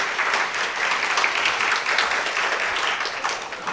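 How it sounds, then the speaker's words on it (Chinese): An audience claps steadily after a memorial lecture, a dense, sustained wash of applause with no talk over it. "我们以掌声来表达我们的感谢"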